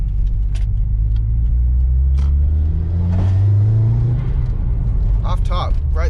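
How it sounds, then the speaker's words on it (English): Car engine pulling hard through second gear, a loud low rumble rising steadily in pitch without bogging, heard from inside the cabin with occasional talk over it. "that's just a second gear pull, not even a 1-2, and it pulls a lot harder, no bogging"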